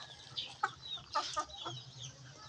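A fighting rooster tied by the leg gives several soft, short clucks at close range, spaced irregularly over a quiet background.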